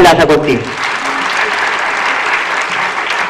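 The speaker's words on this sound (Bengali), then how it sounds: "তাদের জন্য জোরে একটা হাততালি আশা করছি।" A loud round of applause fills the hall at a sales achievers' recognition ceremony for a Thailand tour. Sharp early claps quickly merge into a sustained, even wash of clapping from a large crowd.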